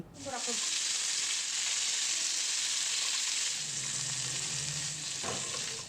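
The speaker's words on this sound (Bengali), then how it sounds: "ফুলকপিগুলি এবার আমি তেলের মধ্যে ভেজে নিচ্ছি" Cauliflower florets fry in hot oil in a pan, giving a steady, bright sizzle that holds close and loud throughout, with a low stirring scrape near the end.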